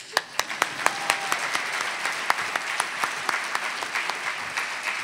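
An audience at a film festival's opening gala claps in a thinning round of applause, with distinct individual claps popping out over a lighter wash for about five seconds.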